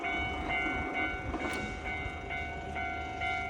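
A train on a Kyrgyz rail line at a station, heard as a steady rumble and hum with a few faint rhythmic clicks, the doors having just shut as it moves off; no voices.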